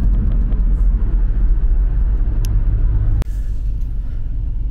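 A Hyundai Casper's three-cylinder engine runs with a steady, close, gruff low rumble, interrupted briefly by a sharp click partway through before the drone continues.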